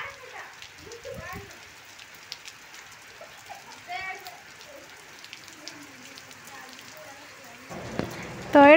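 Sudden heavy rain on a morning walk, a steady broadband patter and hiss lasting throughout, with scattered voices and a louder burst near the end.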